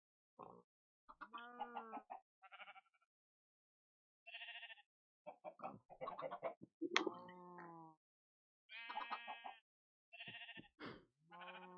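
Chickens cluck in a Minecraft game running the GregTech 6 modpack, short harmonic calls scattered across quiet gaps, clear and alone with no talk over them.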